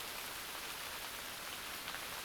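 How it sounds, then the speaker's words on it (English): Rain begins falling on a fully insulated hot tent while camping, a steady dense patter like wet snow hitting the fabric, soft and even throughout with no talk. "It's starting to rain. It almost sounds like wet snow."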